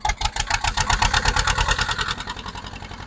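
A 1969 Zetor diesel tractor engine, offered for sale as an antique, revs up sharply with a rapid, loud chugging firing rhythm, then settles back toward a steadier idle, heard close with no talk.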